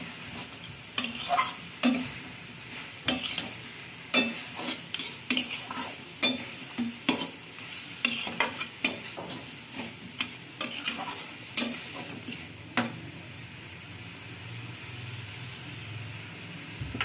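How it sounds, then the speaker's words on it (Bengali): Fried katla fish heads go into a frying pan and are stirred, giving repeated clanking scrapes of a spatula over a low sizzle, close and fairly loud, with the stirring easing off near the end. "এখন মাথা যে ভেজে রেখেছিলাম সেগুলো দিয়ে দিচ্ছি।"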